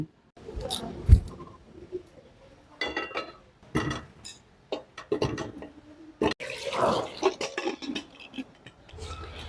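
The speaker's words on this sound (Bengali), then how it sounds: "এখন আমি আলুগুলা সিদ্ধ দিলাম।" Potatoes, about a kilogram, are put into water to boil in a home kitchen, with splashing, clinking and knocking of pot and utensils coming in irregular bursts close by.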